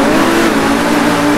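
A car engine revs hard at the start of a race in GTA V, a loud, steady, close roar with a sustained droning tone that holds for the whole moment.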